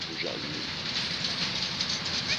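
Narrow-gauge train passing in the Bieszczady mountains near Dołżyca, a steady broad rumble and rattle throughout, with a voice briefly heard over it.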